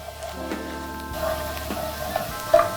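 Spices and salt sautéing in a pan for a spicy tagliatelle sauce, a soft steady sizzle with light stirring scrapes and a few small clicks, close and fairly quiet with no talk.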